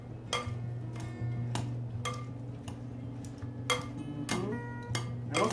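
A Brussels sprout salad is stirred in a bowl, giving a series of irregular, clear utensil clinks and taps against the dish, spaced about half a second to a second apart, over a low steady hum.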